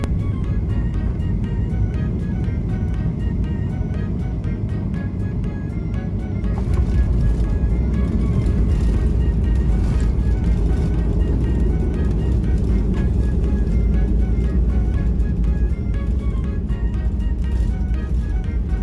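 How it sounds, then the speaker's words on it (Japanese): Steady loud roar of a JAL passenger airplane descending and touching down at night, a continuous engine and rumble that grows heavier midway as it lands, heard from the cabin. "無事目的の空港に着陸しました"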